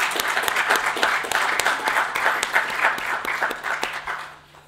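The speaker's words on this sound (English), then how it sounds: "Give another round of applause for our first two speakers." Audience at a summit in a library applauds its first two speakers, a full crowd of clapping hands that stays strong and steady before easing off slightly at the end, with no voices over it.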